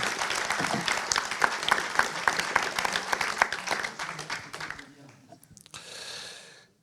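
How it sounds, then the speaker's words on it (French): Audience at a Paris accounting association general assembly applauds outgoing elected members: dense, steady clapping for several seconds that thins out and fades, followed by a brief softer burst of clapping near the end. "je vais vous demander d'applaudir tous ces élus sortants"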